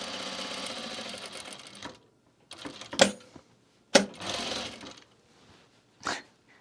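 A sewing machine runs top stitching along a seam in short bursts: one longer run, then brief stops and starts separated by near silence, close and moderately loud.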